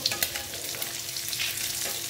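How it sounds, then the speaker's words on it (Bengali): Eggs frying in oil in a pan for a mustard-poppy steamed egg curry, giving a steady close sizzle and crackle throughout with a few sharper pops near the start. "দেখো মোটামুটি আমার ডিমটা ভাজা হয়ে গেছে।"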